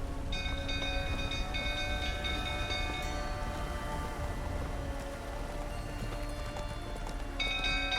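Horses in The Witcher 3: Wild Hunt, a steady clip-clop of hooves under rumbling noise and sustained tonal hums, moderately faint and continuous.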